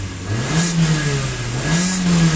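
A Renault car engine, in a Sandero or Clio losing acceleration, revs up twice as the accelerator is pressed, the steady mid-pitched drone swelling and easing back in a loud, close rise-and-fall with no voices.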